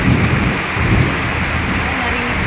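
Heavy rain hisses continuously with a deep, rolling rumble of thunder underneath, heard from a terrace, loud and close.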